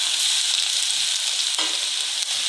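Ginger and garlic frying in oil in a pan, a steady close hiss and sizzle with faint stirring scrapes, alone.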